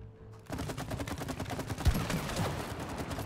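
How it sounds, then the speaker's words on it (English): Rapid gunfire in the co-op video game It Takes Two: a fast, steady burst of repeated shots that starts abruptly after a short quiet lead-in and continues without pause, with no voices. "Shoot that again. Shoot it again."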